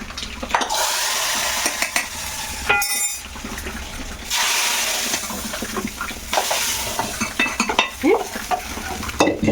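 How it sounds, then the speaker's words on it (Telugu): Oil sizzles loudly in a pan as spices are tempered for spinach dal, with stirring scrapes and occasional clinks of a utensil against the pot. "తాలింపు వేసుకున్నాము"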